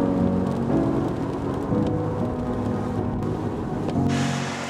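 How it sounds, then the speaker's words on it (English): Heavy rain in the Scottish Highlands pours in a dense, steady hiss with a low rumbling undertone, continuous and enveloping, no voices. "it's just raining, raining, raining, and the clouds are so low"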